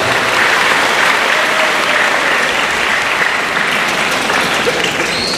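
Loud, dense applause from the attendees at a religious lecture during an IDMI anniversary event, sustained clapping that fills the room evenly for several seconds with no voices over it.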